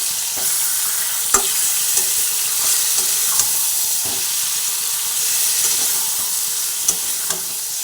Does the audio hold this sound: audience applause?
no